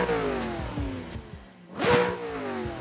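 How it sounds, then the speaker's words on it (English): Racing car engine of a VDC Corvette in Assetto Corsa revving loudly, with rising and falling pitch sweeps, a brief drop, then a strong surge as it accelerates again. "Whoa, car is very loud."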